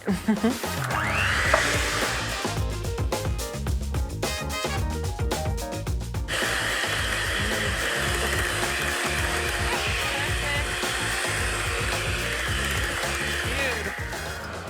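A whirring mixer churns cheesecake batter of cream, dulce de leche and cornflour in a kitchen, running steadily and loudly throughout with clattering at the start, while people talk over it.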